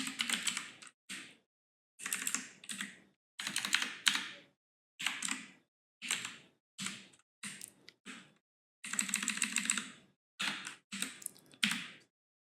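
Bursts of computer keyboard typing while entering a token into Laravel 12 API code, quick clustered clicks in short runs separated by brief pauses, close and clear with no talking.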